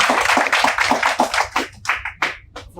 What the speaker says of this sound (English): Please give a big applause.